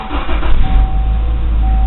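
An old Subaru car engine cranks and starts up, a loud close low rumble settling into idle with a faint steady whine.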